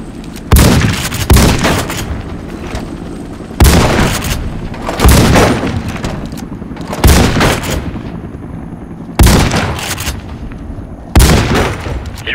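Shotgun blasts at the shooting range in the video game Warface: loud, heavy booms fire one at a time in bursts, each trailing into a short decay, with brief pauses between groups.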